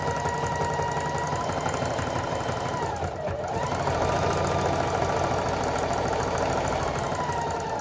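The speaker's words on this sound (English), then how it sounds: "So me sewing on two machines at the same time" Two sewing machines run at once while a rug is sewn, giving a continuous fast mechanical hum with a rapid stitching rattle and a short dip partway through.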